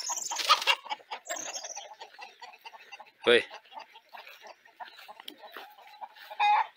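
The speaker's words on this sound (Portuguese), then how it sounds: "a galinha se incomodou" Hens settled on a roost at dusk give scattered soft clucks and brief squawks with bird calls mixed in, close by, while someone talks quietly over them.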